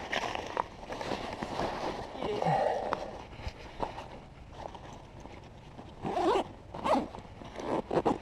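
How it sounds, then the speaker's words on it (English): Zipper on an Eagle Creek Systems Go 60L duffel pack being pulled shut, several quick rasping zip strokes in bursts, close and fairly loud, with a quiet voice in places. "We're going to zip it up here again."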